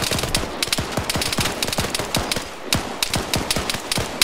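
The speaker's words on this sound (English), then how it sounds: "They're shooting us from the ATC" Rapid automatic gunfire in the video game Arma 3, a loud, steady stream of close sharp shots with a brief pause midway, no talk.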